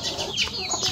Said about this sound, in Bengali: এখানে আর একটা মুরগি বসে আছে